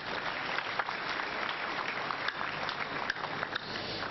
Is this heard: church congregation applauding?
yes